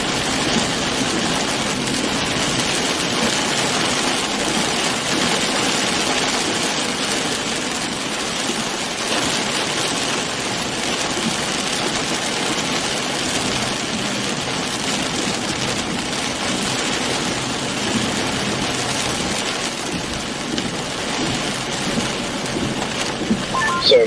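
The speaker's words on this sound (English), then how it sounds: "So tired of all this rain." Heavy rain pours steadily during a tornado-producing storm in Elberta, Alabama, a dense, unbroken hiss that lasts throughout at a constant loud level, with a low rumble underneath.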